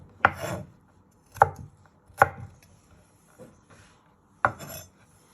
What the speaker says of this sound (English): And you're just chopping it the other way.